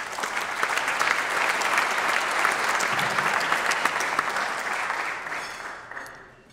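Sustained applause fills a room at a small business recognition awards ceremony, a dense even clatter of many hands that holds for several seconds, then tapers off and stops.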